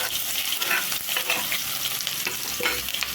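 Cumin seeds tempering in a hot pan, stirred with a utensil: a continuous close sizzle broken by repeated scraping strokes and clicks.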